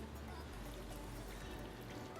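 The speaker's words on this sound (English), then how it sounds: "Let's pour in our sauce." Ceviche sauce is poured over shrimp in a kitchen, a quiet continuous liquid pour with faint trickling under low background noise.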